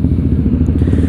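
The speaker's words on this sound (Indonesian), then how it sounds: "Motornya keren-keren. Silinder 4, guys." A four-cylinder motorcycle engine runs loud and close with a dense, steady low rumble throughout, apparently at a street gathering on the ride home from a Sunday morning group ride in Madura.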